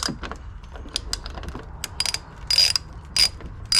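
A ratchet clicks in short, quick bursts while it works a bolt loose from a Jeep mirror. The sharp, close metallic clicking has brief pauses between the strokes, and no one talks.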